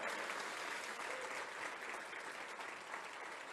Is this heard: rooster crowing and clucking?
no